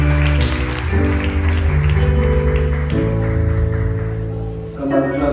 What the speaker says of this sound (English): Come on, clap Jesus now.